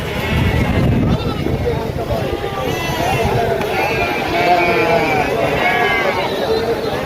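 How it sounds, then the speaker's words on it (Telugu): Sheep and goats bleat repeatedly amid a noisy crowd at Gangadhara livestock market in Karimnagar district, Telangana, with overlapping calls and constant human babble throughout. "ఈరోజు గంగాధర సంతలోకి గొర్రెలు, మేకలు చాలానే తీసుకొచ్చారండి"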